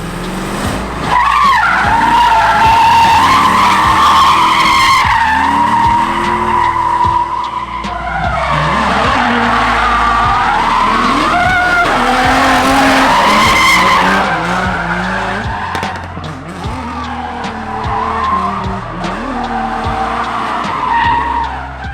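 Porsche drift cars tandem drifting, loud high tire squeal sustained over revving engines, fading and rising as the cars slide past close by, with no talk.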